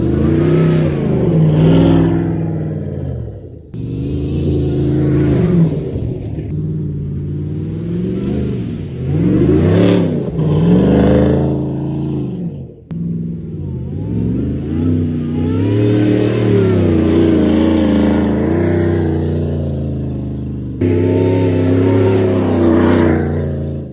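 A FOX Factory Chevy Silverado truck's engine roars loud and close while driving on a farm, revving up and down repeatedly through rising and falling pitches, with brief drops between gear changes.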